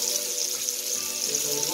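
Shrimp sizzling in a hot pan for jerk shrimp with sausage, a steady close frying hiss with faint crackle throughout and no pauses.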